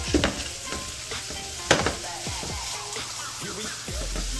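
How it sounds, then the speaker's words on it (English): Bacon sizzles in a hot pan during shrimp and grits cooking, a constant crackling hiss close by with a few sharp clatters as the strips are tossed around. "I'm gonna add that bacon in there, just like that"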